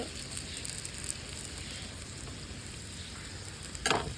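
A paratha of flour and eggs fries in a pan at breakfast, giving a soft, steady sizzle with faint crackle and a brief scrape near the end, quiet and close.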